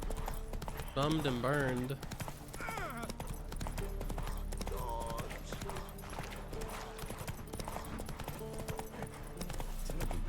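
Roach's hooves clip-clop in a steady trotting rhythm on the ground in The Witcher 3, continuous and fairly prominent under a voice speaking in bursts throughout.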